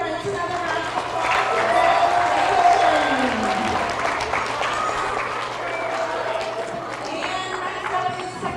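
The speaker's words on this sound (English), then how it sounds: "let's give our PreK-3rd another round of applause" A school assembly audience applauds a group of PreK through third grade students, steady clapping from a large crowd filling the room for several seconds, with some voices and cheers mixed in.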